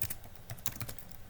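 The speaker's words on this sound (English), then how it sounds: "We are typing August" Quick keystrokes tapped on a computer keyboard while entering a date, an irregular run of close, crisp clicks with no voices.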